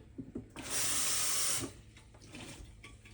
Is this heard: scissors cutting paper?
no